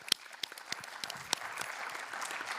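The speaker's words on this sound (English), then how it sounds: "I'd like you to give a warm round of applause to Petra" Applause at a conference session on job creation for persons with intellectual disabilities, starting as a few sharp separate claps and building into steadier clapping from the audience.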